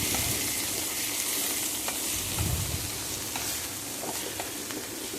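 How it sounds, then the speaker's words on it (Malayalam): Four sliced onions fry steadily in coconut oil in a pan, giving a constant close sizzle with the soft scrape of stirring now and then throughout. "ഇനി ഒരു പാനിലേക്ക് അല്പം വെളിച്ചെണ്ണ ഒഴിച്ച ശേഷം 4 സവാള സ്ലൈസ് ചെയ്ത് വെച്ചതാണ്, അത് ചേർത്ത് കൊടുക്കുകയാണ്."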